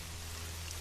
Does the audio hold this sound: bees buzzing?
no